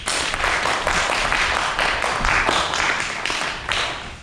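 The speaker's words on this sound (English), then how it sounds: "Please give him a round of applause." A crowd claps in broad, steady applause at a guitar festival interview, a dense wash of hand claps with a few sharper bursts, loud and close, with no talking over it.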